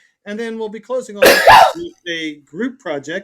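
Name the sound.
sneeze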